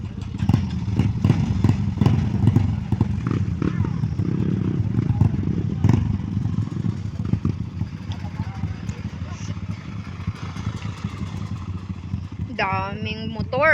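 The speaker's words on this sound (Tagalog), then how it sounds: "Daming motor." Motorcycle engines rumble and clatter continuously nearby, several bikes in a group ride seeming to pass one after another, with people talking throughout.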